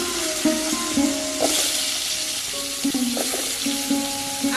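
Potatoes hit a hot pan for khichuri, crackling and sizzling steadily, with a few wooden stirring knocks and scrapes breaking through the loud frying hiss.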